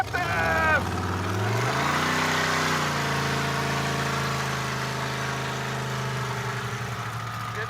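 The stubby Stubby Bob hot rod's engine starts up with a rising rev, then settles into a steady, loud, rumbling run as the car pulls away, holding a constant drone.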